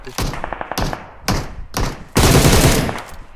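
Gunfire in a video game sounds as loud, close bursts of shots and thumps, several quick volleys followed by a longer, denser stretch of firing.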